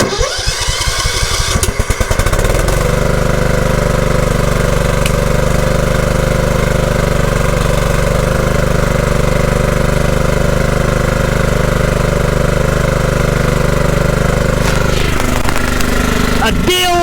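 A lawn mower engine, running again after a broken fuse was replaced, fires up with a few rough sputters and then settles into a loud, steady close-up drone that holds before trailing off at the end.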